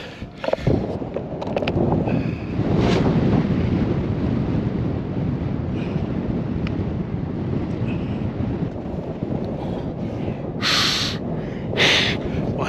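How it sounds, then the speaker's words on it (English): Strong wind buffets the microphone out on a Minnesota lake while panfishing, a steady loud rumble with gusts and brief hissing bursts near the end. "this wind is brutal out here"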